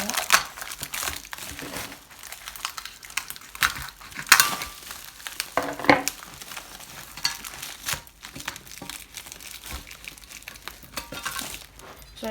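Crinkling plastic packaging being unwrapped around new parts for an HT23 tractor, with repeated crisp rustles and crackles at close range, some louder bursts, and no speech.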